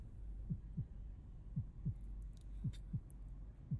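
Heartbeat sound effect in a tabletop horror role-playing session: low, muffled double thumps repeating at a slow, even pace, fairly quiet and alone, with faint high ticks above.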